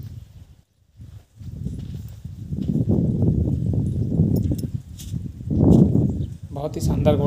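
Hooves of a spotless white Nukra mare, a wedding-procession horse from near Sikar, clop on the ground in a loose, continuous rhythm, close by, mostly under someone talking.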